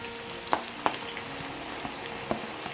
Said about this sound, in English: So we need to deep fry our onions